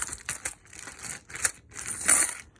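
Coins dropped into a container during a physics buoyancy experiment, several bursts of bright metallic clinking and jingling in quick clusters, close and alone.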